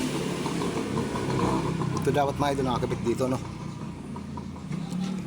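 An Isuzu 4BA1 diesel engine runs rough with its intake hose missing, a steady uneven low rumble close by under someone talking throughout.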